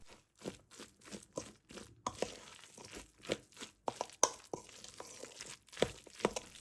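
Seasoned grated pumpkin mixture being stirred close up in a bowl, a quiet run of wet, crunchy scrapes and squelches repeating in an uneven rhythm, with no talking.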